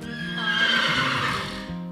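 A horse neighs loudly and close by in one sustained whinny lasting under two seconds, with a faint clip-clop of hooves beneath it.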